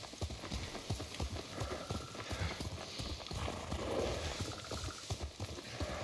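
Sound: horse hooves while riding in the video game Ghost of Tsushima

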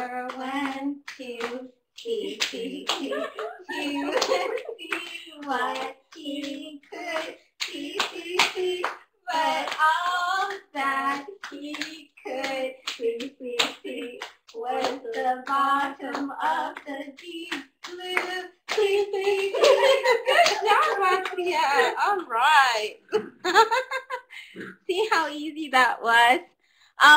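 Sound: hands clapping in a children's clapping game

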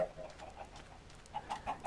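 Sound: chickens clucking in Minecraft VR video game

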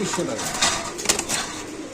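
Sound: racer pigeons cooing and fluttering

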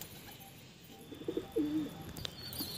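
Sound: Shikra pigeon cooing

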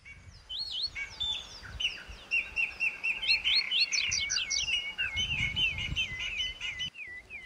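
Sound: flock of colourful birds chirping

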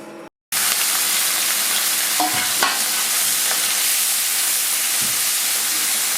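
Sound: shrimp coated in salt and turmeric frying in a wok

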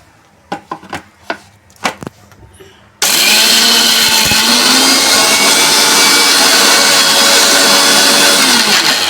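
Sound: blender crushing soaked urad dal

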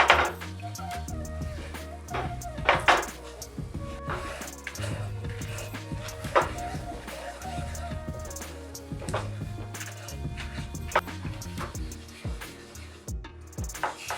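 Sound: cooking and stirring flour in melted butter in pan

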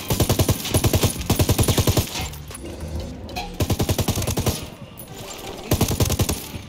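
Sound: light machine gun fire in video game Ghost Recon Wildlands

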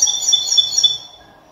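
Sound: songbird singing

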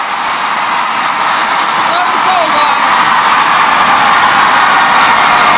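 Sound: home crowd cheering at badminton match

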